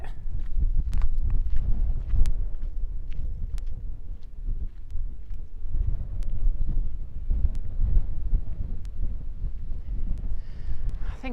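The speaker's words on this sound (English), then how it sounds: "the wind's hurting my ears" Wind blows hard over open moorland near Sheeps Tor on Dartmoor and buffets the microphone. It makes a constant deep roar with gusty swells and scattered sharp ticks and crackles, and there is no talk.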